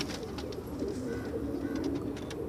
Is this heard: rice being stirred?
no